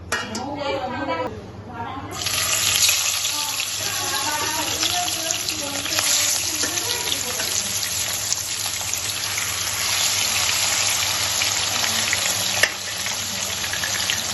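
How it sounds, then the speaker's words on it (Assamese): Fish pieces fry in hot oil in a wok with a loud, steady sizzle that fills the whole stretch, with a brief clink of utensils near the start and no talking. "মাছ কেইপিচ ফ্ৰাই কৰি ল'ম।"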